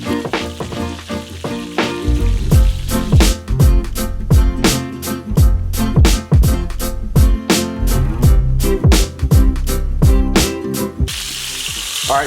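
Chicken thighs and lightly smashed garlic cloves fry in a pan over moderate stove heat, giving a loud, close sizzle punctuated by frequent sharp pops and crackles.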